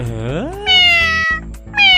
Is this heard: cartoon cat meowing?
yes